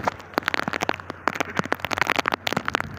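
Light rain pattering steadily, with many small irregular drips and taps close by, no voices.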